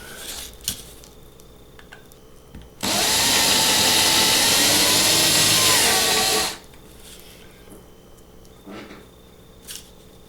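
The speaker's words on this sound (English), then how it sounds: "drilling out the post and the cap." A power drill whines loudly for about four seconds while drilling out a rivet post and cap, starting and stopping abruptly, between quiet stretches with small clicks and handling noises.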